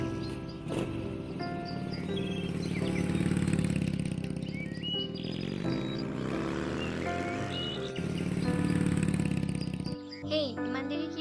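A motorcycle engine runs steadily for about ten seconds, a continuous low drone with a throaty hum. It cuts off near the end.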